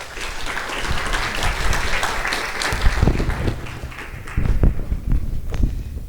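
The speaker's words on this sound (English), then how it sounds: "Let's welcome Ms. Kristen Mink with a round of applause" Audience at an interfaith Ramadan program gives a round of applause to welcome a speaker, a steady crowd clapping with some heavier thumps mixed in, swelling slightly near the end.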